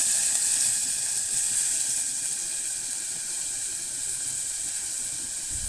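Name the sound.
chopped onion frying in hot oil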